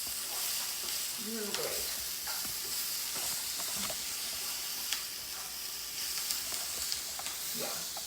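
Onions and peppers for an eggless shakshuka, seasoned with garam masala, sizzle steadily in a pan with a constant close hiss and occasional stirring clicks, while a voice speaks briefly over it.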